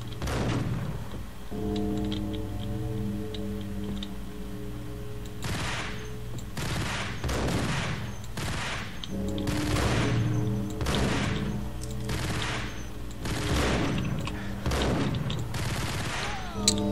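Scattered gunshots in the video game Max Payne, a dozen or so sharp cracks spaced irregularly over a steady background drone, some in quick pairs.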